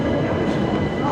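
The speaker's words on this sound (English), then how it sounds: "Now you see, there's a train there" A train at London Euston station: a loud, steady low rumble and hum of rolling stock filling the platform, continuous and close throughout the short stretch with no pauses.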